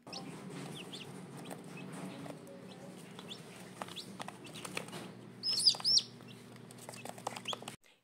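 Newly hatched chicks peep and a broody hen clucks softly inside a box, a steady chorus of close cheeping over a low hum, with a brief louder flurry of calls partway through.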